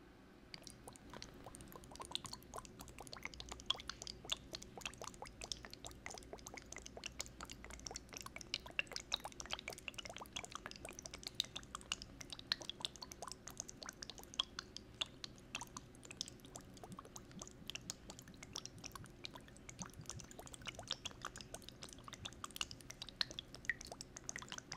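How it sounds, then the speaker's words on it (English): Water rinses shampoo out of hair in a close, quiet hair-washing session, giving a soft, steady wet patter and trickle with faint squishy crackles that run continuously throughout, with no voice. "Now, to rinse the shampoo out of your hair."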